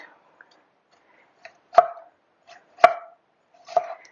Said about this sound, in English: I'm just going to chop off the ends.